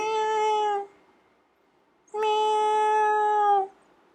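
A cat gives two drawn-out meows, the first short and the second longer, each clear and close with a pause between, no talking.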